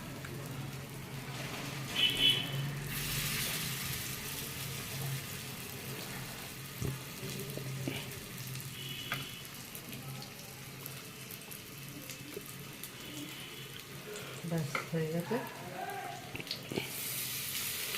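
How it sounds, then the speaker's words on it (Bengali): Breadcrumb-coated paneer rolls frying in hot oil, a soft continuous sizzle with faint splashes and kitchen clatter, close but low in level, no one talking. "এই ব্রেড ক্রামসের মধ্যে এরকম করে করে দিয়ে তেলে ছেড়ে দেবো"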